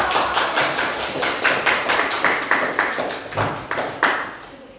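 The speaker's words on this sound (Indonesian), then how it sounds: "berikan aplaus untuk" A small group claps in rhythmic unison in a classroom after a group presentation, about a dozen even, close claps at a steady pace.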